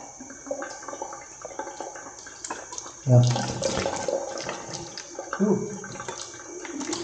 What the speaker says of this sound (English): Even the water from the taps in their restrooms are cold.